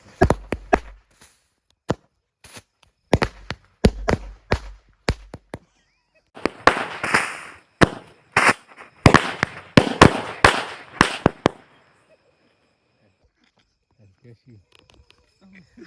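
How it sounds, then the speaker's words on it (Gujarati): Bundled firecrackers bursting outdoors in a rapid string of sharp, loud cracks and pops, an early cluster followed by a denser volley that stops abruptly, leaving quiet with faint sounds at the end. "તમે જોઈ શકો છો કે આપણે એક સાથે ફટાકડા પડ્યા તે બહુ સારી રીતે ફૂટ્યા છે"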